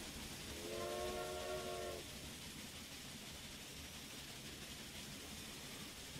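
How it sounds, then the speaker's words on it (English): A train in the Railway Empire video game pulls into a station, a bright horn-like whistle sounding for about a second near the start over a steady mechanical rumble that carries on to the end. "Here we go, folks, coming into the station."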